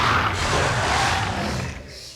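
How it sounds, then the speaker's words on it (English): Aggressive roar of an Austroraptor in The Isle, one sustained, loud, raspy roar lasting about two seconds that fades at the end, heard alone. "And then here's his aggressive roar."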